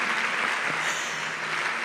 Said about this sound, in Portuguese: Pode, mas aplaude todo mundo junto